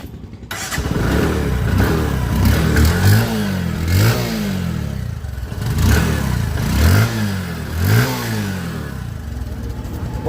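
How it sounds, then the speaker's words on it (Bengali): A Bajaj Discover 125 motorcycle engine runs steadily close by, with a continuous loud idle and several rhythmic rises like light throttle blips throughout. "গাড়ির একটা সাউন্ড শুনে আপনাদের দেখাবো"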